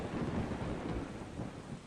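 A lightning strike in the Roblox game Grow a Garden produces a loud, sustained thunder rumble with a rain-like hiss, filling the whole short clip with no talking.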